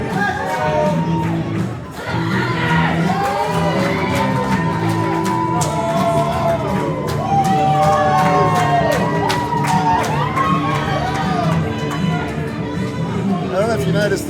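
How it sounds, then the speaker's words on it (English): Live pro wrestling crowd cheering as champion Frankie Quinn enters, a loud sustained roar of shouts and whoops in an arena, with commentators talking over it. "The crowd here loving Frankie Quinn."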